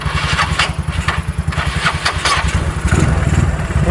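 Engine of an old Yamaha Mio scooter-style motorcycle with a carburetor problem, cranking and starting close up: rapid, chugging pulses that settle into a rough, uneven idle, with no talk.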